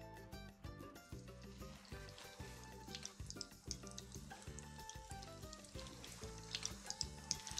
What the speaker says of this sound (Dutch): Ik ga nu ondertussen de burgers bakken